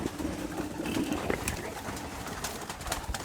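Pigeons coo softly in a small pigeon loft holding stock birds, low murmuring calls repeating steadily over a faint rustling background.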